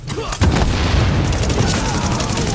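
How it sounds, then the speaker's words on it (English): A grenade detonates in the shooter game The Division with a heavy, close boom, followed by sustained rumbling debris and gunfire-like crackle, and voices shouting over it. "Grenade!"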